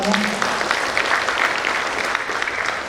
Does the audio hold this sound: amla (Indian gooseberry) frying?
no